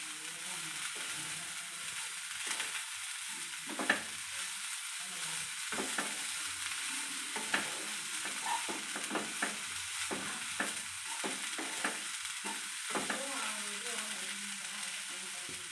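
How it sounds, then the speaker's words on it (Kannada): Coriander and mint wilting with spices in a hot pan for veg biryani masala, a soft steady sizzle broken by repeated scraping stirs of a spatula. "ಅದರಲ್ಲೇ ಈ ಸೊಪ್ಪೆಲ್ಲ ಮಸಾಲೆ ಆಲ್ರೆಡಿ ಫ್ರೈ ಆಗಿದೆ. ಸ್ವಲ್ಪ ಕೊತ್ತಂಬರಿ ಪುದೀನ ಎಲ್ಲ ಸ್ವಲ್ಪ ಅದೇ ಹೀಟಲ್ಲಿ ಬಾಡಿಸ್ಕೊಂಡ್ರೆ ಆಯಿತು"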